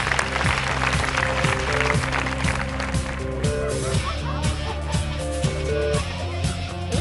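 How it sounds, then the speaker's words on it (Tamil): Studio audience clapping for a contestant on a Tamil television game show, steady applause layered over loud rhythmic background music with a regular beat throughout. "அவங்களுக்கு நல்ல கைத்தட்டல்."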